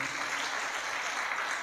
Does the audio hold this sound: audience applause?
yes